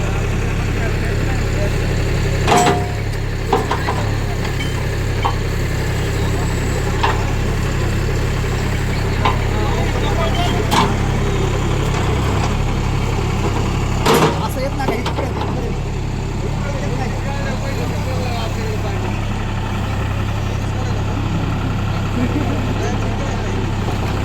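A farm tractor converted into a JCB-style loader idles at an agricultural exhibition in Baramati, giving a steady low engine hum. Crowd voices and occasional knocks and clatters sound over it.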